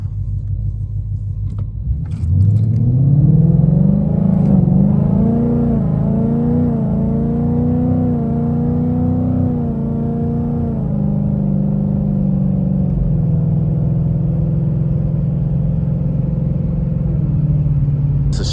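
A car engine, likely a BMW 550i, revs and accelerates hard down a straightaway, a loud, rising drone that climbs through several gear pulls before settling into a steady rumble, heard up close with no talking.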